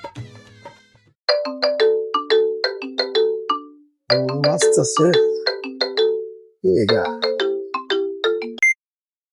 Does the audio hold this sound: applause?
no